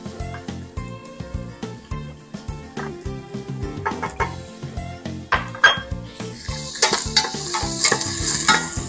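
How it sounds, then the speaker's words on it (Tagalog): Onion and garlic frying in a pan while a spatula stirs them, rhythmic metallic scrapes and clanks over a rising sizzle, close and fairly loud, no talking. "Habang niluluto natin yung sibuyas, pwede natin ilagay yung ating bawang."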